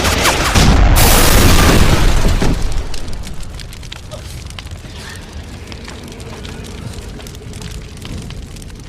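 A huge explosion in an action film erupts with a loud roaring boom, then fades into crackling fire and falling debris over several seconds.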